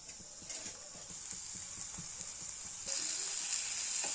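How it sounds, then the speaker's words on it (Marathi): Onion and tomato sizzling in hot oil in a pan, a steady bright hiss with faint stirring taps, growing louder toward the end. "तर कांदा आणि टोमॅटो एकत्र आपण थोडंसं भाजून घेऊ तेलामध्ये"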